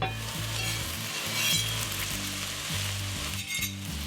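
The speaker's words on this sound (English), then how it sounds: "at the minute the mushrooms have just absorbed the butter" Mushrooms sizzling in butter in a frying pan, a steady close crackle over a low pulsing hum, with faint clinks now and then and no speech.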